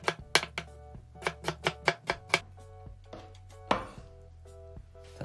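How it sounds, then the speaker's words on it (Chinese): A knife slices tomatoes on a chopping board for a tomato, seaweed and egg drop soup, giving a quick run of sharp, evenly spaced chops, then a pause and a few scattered cuts, close and clear with no talking. "咱们先将西红柿切片儿"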